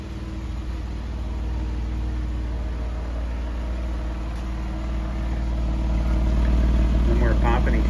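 A 2011 Jeep Wrangler 3.8 engine idles smoothly and steadily after a spark plug fix, a continuous low hum with no popping from the tailpipe, faint talk near the end.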